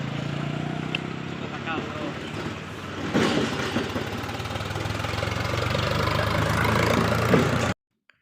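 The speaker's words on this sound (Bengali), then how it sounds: "ও সমীরের বাইকে করে যাইতেছে গা।" A motorbike engine runs in a steady mid-pitched drone that swells gradually and cuts off abruptly at the end.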